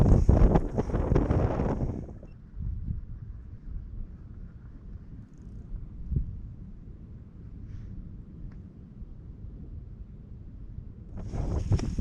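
Wind buffets a microphone on a snowy, icy Pennines hillside during a bike ride, with heavy gusts at the start and end and a lower, steady rush of wind in between.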